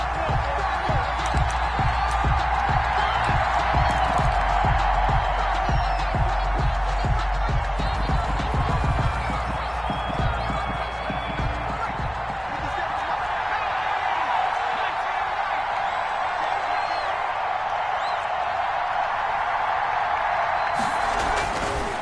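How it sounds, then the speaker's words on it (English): A football stadium crowd roars before a Philadelphia Eagles versus Dallas Cowboys game, a broad steady crowd noise with scattered cheers and whoops running underneath continuous commentary. "This crowd is ready as their guys get set to match up between the Philadelphia Eagles and the Dallas Cowboys."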